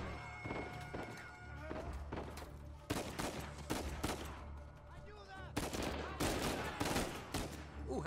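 Rapid bursts of automatic gunfire and single shots in Uncharted 4, loud and close, with repeated volleys over an action score and a voice cutting in now and then.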